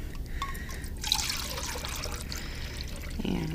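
Water pours in a steady trickle into a measuring cup, a short close splashing stream that shifts in pitch as the cup fills.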